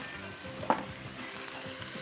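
Potatoes fry in hot oil in a pan, a soft continuous sizzle with a few small pops and a faint clink near the start, fairly quiet and with no talking.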